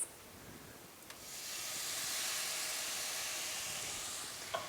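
Balsamic vinegar hitting a hot pan of browned shallots, a steady soft sizzle and hiss that swells after a brief start and holds evenly, close by with no talking.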